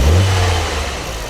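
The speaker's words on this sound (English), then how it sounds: "we'll be able to hear what it actually sounds like, and it'll run like an engine should run" An Audi TT engine revs loud and close after a vacuum line repair, with a throaty rise that settles into a steady running drone.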